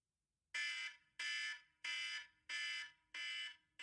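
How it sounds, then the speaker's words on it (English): An alarm tone used as a podcast segment timer sounds in five loud, bright, evenly spaced blasts of about half a second each, alone with no talking. "And when the alarm goes off, which is going to sound like this."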